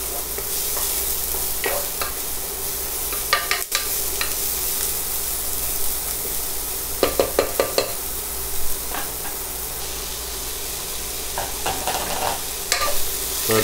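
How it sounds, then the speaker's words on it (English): Chopped garlic sizzles steadily in a hot pan while a utensil stirs it, giving intermittent scraping clicks over a continuous frying hiss, with no voices. "And just kind of get us a quick stir for about 1 minute."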